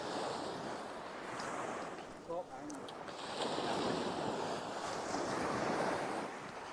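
Sea waves breaking and washing on a Suffolk beach at night, a continuous surging roar that swells and recedes, with heavy wind buffeting the microphone and a brief voice partway through.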